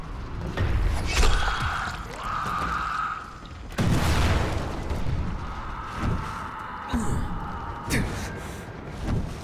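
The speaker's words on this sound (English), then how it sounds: "Where's the explosion? There it is." A deep booming explosion in the video game Dying Light bursts out mid-clip amid game effects and mechanical clatter, followed by rumbling and scattered impacts.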